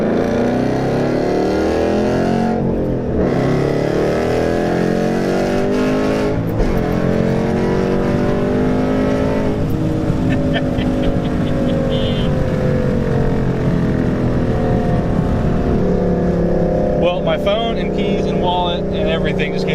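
A 600hp 2013 Roush RS3 Mustang engine roars loudly and close, its pitch sweeping up and down through repeated revs on downshifts, with voices talking over the steady engine noise.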